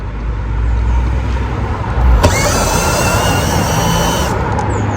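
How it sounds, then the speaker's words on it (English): T20 Torx screws are backed out of a Mini R56 rear light with a power driver: a steady background hum, then a sharp whirring burst of about two seconds before the hum settles again. "They're T20 Torx screws, so we're just going to remove those now."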